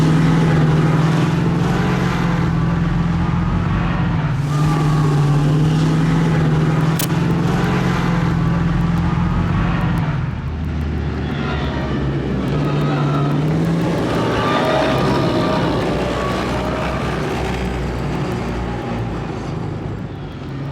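A 30-ton Bradley Fighting Vehicle is driven hard off-road through mud. Its engine gives a loud, steady, close roar with a droning hum, shifting slightly in pitch as it pushes on without a break.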